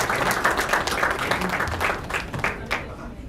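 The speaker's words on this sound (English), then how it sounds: "Round of applause, keep it coming, please." A conference audience at an African entrepreneurship event claps, with individual hand claps audible within a sustained wave of applause that stays strong before thinning out toward the end.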